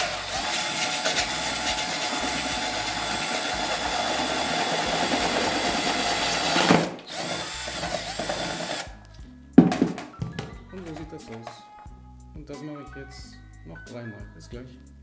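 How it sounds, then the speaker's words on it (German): A power drill bores a hole through a plastic bucket, a loud sustained whine for several seconds that stops abruptly, followed by quieter handling noises and a person talking. "Ich schnappe durch den Eimer und versuche so mittig wie möglich ein Loch zu machen."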